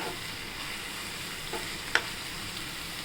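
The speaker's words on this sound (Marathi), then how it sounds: "आता आपण याच्यात हे हळद टाकूया आपण परतून घेऊया" Onions and turmeric sauté in a pan for cowpea greens, giving a soft steady sizzle with a faint stir and one sharp clink, close and without talk.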